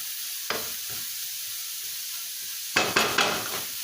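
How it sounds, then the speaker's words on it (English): Enchilada filling fries in a pan with a steady, soft sizzle, broken by a few brief scrapes and stirring clatters of a utensil against the pan, close and without talk. "I'm going to fry it for about maybe more than 5 minutes"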